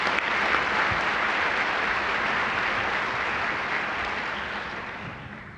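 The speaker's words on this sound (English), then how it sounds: "please join me in giving them a warm round of applause." Warm, sustained applause from the crowd at an interfaith mayor's prayer breakfast in Pasadena, a thick even wash of clapping that gradually tapers off.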